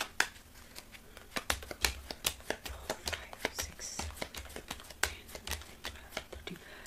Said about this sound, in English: Me to shuffle again. Shuffle again.